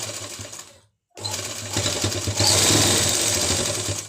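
Sewing machine stitching a circular palazzo: a steady, close mechanical whir of rapid stitching that stops briefly, restarts and runs on, growing slightly louder toward the end.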